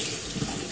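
Tap water runs in a brief, steady splashing rush as a straight razor blade is rinsed under it during bevel setting, close and alone.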